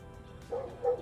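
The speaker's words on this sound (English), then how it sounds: "Sorry about the dog barking." A neighbor's dog left out on a balcony barks twice in quick succession, moderately loud and slightly distant, with no talking over it.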